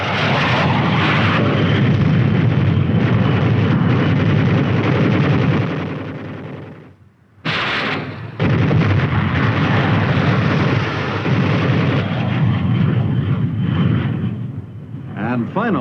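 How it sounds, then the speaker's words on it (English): Aircraft attacking with general purpose bombs, machine guns and rockets, heard as a dense, continuous roar of engines, blasts and gunfire, loud and unbroken apart from a brief drop near the middle, with a narrating voice in the mix. "the first flight drops general purpose bombs. next flight uses machine guns and rockets."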